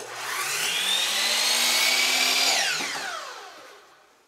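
A power saw cuts through a faux wood beam in one loud, close, continuous whining pass of a few seconds, then spins down and fades.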